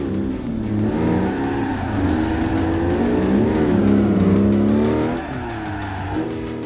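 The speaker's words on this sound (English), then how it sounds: "I did try to do some drifting with this thing" A heavy Yugo car drifting in a video game, engine droning and revving continuously while tires squeal and skid in long wavering streaks, loud and close throughout with no talking.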